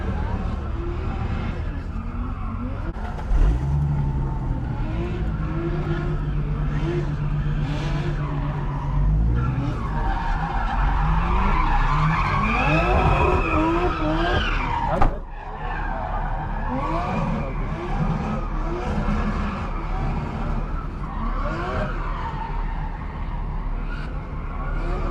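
Twin-turbo 2JZ-swapped Ford Mustang drifting on a track with a manual gearbox, engine roaring steadily while tires squeal and skid through long slides, with a sharp burst midway and faint talk underneath.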